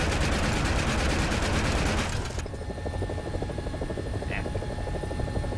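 A helicopter's rotor thumps steadily with a loud engine whine in the video game War Thunder, the sound abruptly dulling and thinning partway through as if heard from inside the cockpit.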